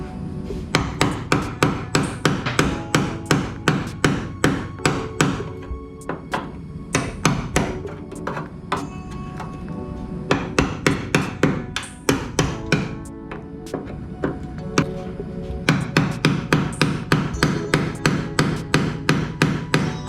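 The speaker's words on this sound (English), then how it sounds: "let me go see if I can get a chisel and a nail and a hammer" Steady metal-on-metal hammering on a chisel against the cowl of a 1964 Ford Falcon, loud close strikes in rapid bursts of evenly spaced blows with short pauses between runs, no talking.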